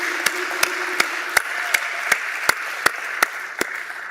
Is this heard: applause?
yes